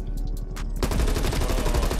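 Automatic weapon fire in the Black Ops Cold War beta, a few scattered shots then a sustained rapid burst of loud gunfire, with no talk.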